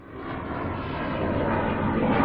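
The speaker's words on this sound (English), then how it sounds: "the T-50 fifth generation plane was delivered to the Russian Air Force for state flight tests." Sukhoi T-50 fifth-generation fighter jet in state flight tests for the Russian Air Force, a broad engine roar that swells steadily louder as it approaches, with no voices.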